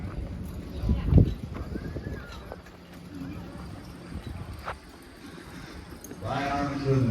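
A team of draft horses works at a county fair horse pulling contest in Pike, New York, with faint hoof and harness sounds under an announcer's voice and crowd noise. A louder rumble of movement comes near the end.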